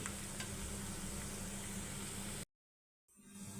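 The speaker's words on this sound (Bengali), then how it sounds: "এখন পেঁয়াজটাকে কিছুক্ষণ ভেজে নিচ্ছি" Steady loud sizzling of onions frying in oil with dried fish (shutki) and garlic, continuous crackle, cut off abruptly by a short silence before resuming faintly.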